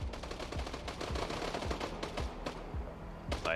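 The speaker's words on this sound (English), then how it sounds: "It's kind of wild just to hear these small bullets shoot out." Rapid bursts of small-calibre pistol gunfire from the Fortnite video game, a dense crackle of shots rattling off in quick succession, loud and continuous through the whole stretch with no voices over it.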